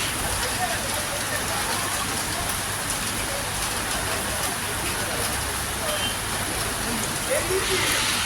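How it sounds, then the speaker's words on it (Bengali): Heavy rain pours steadily outside a shop, a dense constant hiss and patter on surfaces with a low rumble beneath, continuous and fairly loud throughout. "দোকানে তো এসেছি, কিন্তু বাইরে খুব বৃষ্টি"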